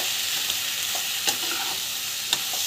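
Onions sautéing with chili, turmeric and coriander powder in a pan, a steady soft sizzle running throughout with a few faint stirring clicks of a spoon.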